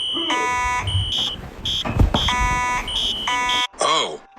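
A fire alarm at a Chuck E. Cheese's sounds in loud, repeated electronic tone bursts broken by short gaps, with a brief lower warble at the end and people talking beneath it.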